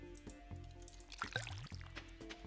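Crops being watered in Stardew Valley, a series of soft liquid splashes and drips over steady game music, moderately loud and close.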